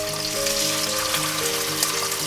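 Mullet fish frying in sesame oil in a pan, a steady soft sizzle and crackle running continuously at moderate level, with a faint tonal hum beneath and no talking.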